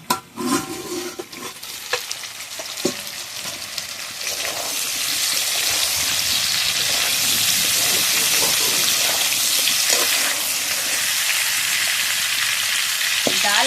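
Raw green mango pickle simmering in a covered pan and being stirred, loud continuous bubbling sizzle with scraping strokes and a few clatters early on, no voices.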